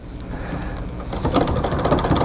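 A treadle sewing machine stitches through a full-sized quilt, starting with light mechanical ticks and then settling into a denser rhythmic clatter of needle strokes, close and steady.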